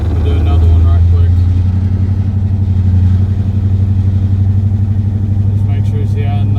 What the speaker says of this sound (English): I don't even know as to where you can hear me or not over the exhaust.